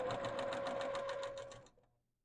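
A sewing machine stitches a quarter-inch seam across a quilt block, a steady close whirring hum with a rapid needle pulse that runs for about a second and a half, then winds down and stops.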